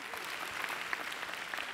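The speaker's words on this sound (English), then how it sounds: "Give her a round of applause" Faint, steady applause from a live show audience, a soft even patter of many hands continuing throughout without a clear start or finish.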